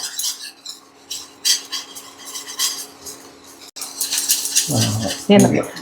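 A whisk clatters and scrapes against a pan while gram flour is beaten into hot ghee and oil for Mysore pak, with quick irregular metallic taps and a person talking over it.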